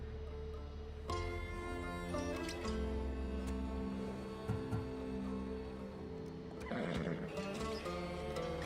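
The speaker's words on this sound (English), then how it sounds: "The horse is going to Adonis." A horse in the video game Assassin's Creed Odyssey whinnies loudly several times over a bed of music, with a few thumps and clattering sounds nearby.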